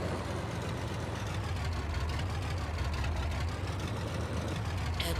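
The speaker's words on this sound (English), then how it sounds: "This tractor is ridiculously noisy, but straight pipe exhaust" A tractor engine with a straight pipe exhaust in Farming Simulator 22 runs loud and steady, a constant rough low rumble with a gritty rattling texture and no pauses.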